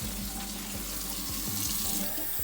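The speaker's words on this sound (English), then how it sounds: "I'm gonna take and rinse them with cold, warm water so they can get the starch off of it" Cold tap water runs steadily into a kitchen sink, rinsing the starch off freshly cooked spaghetti noodles; a continuous close splashing stream with no talk.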